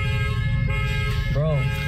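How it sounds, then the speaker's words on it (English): A car alarm blares up close, steady tonal honking layered with a wavering siren-like sweep, loud throughout while voices talk over it. "His car alarm went off."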